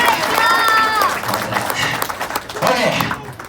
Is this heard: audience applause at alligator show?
yes